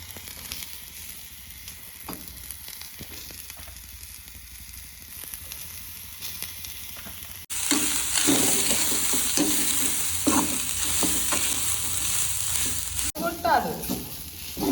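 Curry leaves sizzle and crackle in hot oil while a mutton gravy is being made, first as a quieter steady fry, then jumping to a loud, dense sizzle with scraping stirs before easing slightly near the end.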